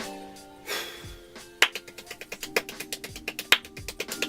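Very fast hand clapping, a rapid run of sharp, evenly spaced claps at record speed that starts after a brief pause and then keeps going steadily, close and fairly clear.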